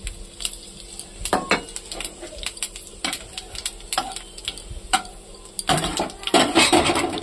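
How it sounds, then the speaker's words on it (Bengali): Cumin seeds and bay leaves hit hot oil in a kadai, giving a sizzling hiss broken by sharp clinks and scrapes of a spoon against the pan that grow busier toward the end. "ফোড়নে আমি জিরে আর তেজপাতা দিয়ে দেবো।"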